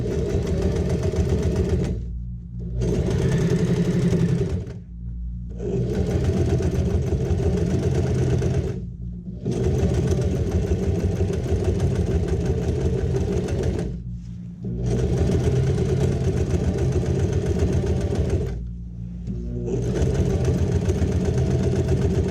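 Domestic sewing machine stitching over a thick seam in a fabric toiletry bag, its motor humming steadily in long runs broken by five brief pauses where the stitching stops.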